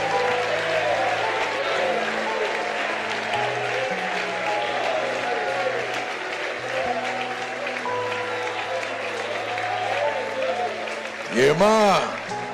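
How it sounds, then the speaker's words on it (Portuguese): Church congregation applauding to glorify God, a steady wash of clapping lasting the whole stretch under sustained organ or keyboard chords, with a brief swooping electronic sound near the end. "glorifique a Deus, aplauda ao Senhor pelo projeto dele que nunca falhou e nem vai falhar"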